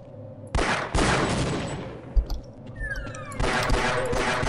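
Rapid bursts of gunfire from the video game Half-Life, loud sustained volleys with a brief lull in the middle before the shooting resumes, mixed with in-game effects.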